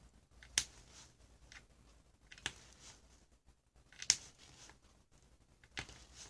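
A blade cuts a stretched polymer clay cane into equal lengths: four or five sharp, crisp snips spaced irregularly over a quiet background.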